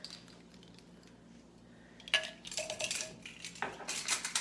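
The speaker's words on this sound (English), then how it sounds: "Let me give it one last stir" A spoon scrapes and clinks against a crock pot holding broccoli cheddar soup with a pinch of thyme, quiet at first, then a burst of bright metallic stirring clatter up close, with no talking.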